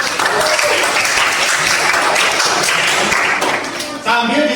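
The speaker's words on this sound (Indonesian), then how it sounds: "Yang lain berikan tepuk tangan untuk kelompok 4" A classroom of students applauds as group 4 comes to the front: dense, steady clapping from many hands fills nearly the whole stretch, with a brief dip near the end before it swells again, and some voices mixed in.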